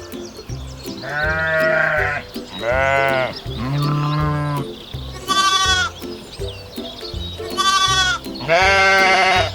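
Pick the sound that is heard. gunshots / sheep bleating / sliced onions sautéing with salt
sheep bleating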